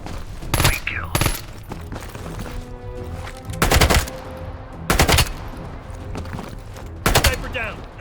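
Sniper fire in the shooter game Call of Duty Black Ops Cold War rings out as five sharp, loud cracks spaced irregularly over a low, rumbling game background.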